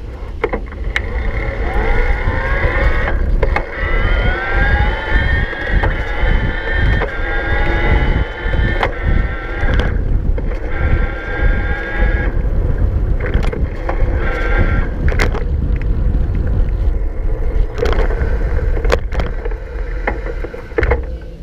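A Gazelle CityZen Speed T10 electric bike being ridden, with a steady rush of wind and road noise, a faint electric motor whine and occasional bumps and rattles throughout.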